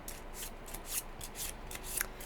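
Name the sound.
shuffling a deck of recipe cards for a board game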